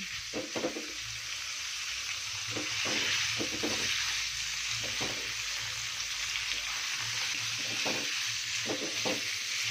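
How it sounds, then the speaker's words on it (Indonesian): Meat for rawon stir-frying in a pan, a steady close hiss of sizzling broken by the scrape and clatter of a spatula stirring at irregular intervals. "Ditumis sampai dagingnya berubah warna biar sampai hitam."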